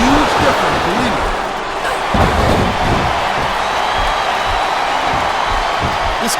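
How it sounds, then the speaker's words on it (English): Steady roar of a wrestling arena crowd in WWE SmackDown vs RAW 2007 on Xbox 360, chanting and cheering continuously through a women's Ironman match, with thuds and slams from the ring and commentary over it. "listen to that chant, Taz"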